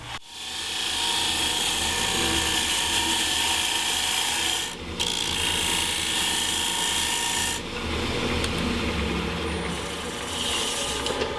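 A wood lathe spins a green wood bowl while a tool scrapes and rasps steadily against the wet wood, close and loud, with brief interruptions and a tonal hum; no one talks.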